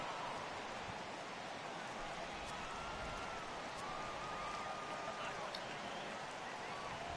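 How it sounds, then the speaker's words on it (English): Steady rain hisses over a ballpark in the baseball video game MLB The Show 18 during a Giants vs Phillies game, a broad constant wash under a commentator's voice. "the rain starting to intensify here"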